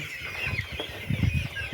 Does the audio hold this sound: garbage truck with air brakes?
no